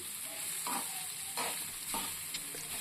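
Plantain pieces sizzle softly in a pan with a continuous hiss, broken by three or four brief scraping stirs at a near, moderate level.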